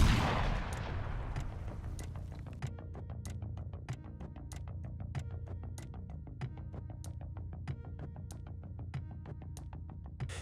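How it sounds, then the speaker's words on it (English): An FPV drone strike detonates with a loud, decaying blast right at the start, followed by a long run of sharp, regularly spaced cracks over a low rumble. "The powerful detonation left no chance to survive"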